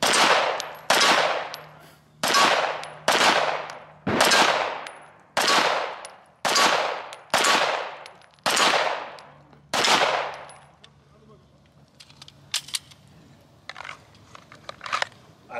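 Ten sharp, loud gunshots ring out at a shooting range at a steady pace of about one per second, each with a quick decaying echo, followed by faint clicks and handling noise.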